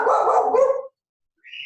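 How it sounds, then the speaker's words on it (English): Two dogs bark through a window in a home, one dense bark up close, then a short pause and a higher yip; loud, with no talking. "That's Lily and Jake barking in the background."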